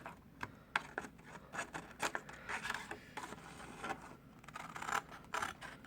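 Scissors snipping binder filler paper, a quiet run of short crisp cuts and rustling paper scrapes, close and faint, with no talking.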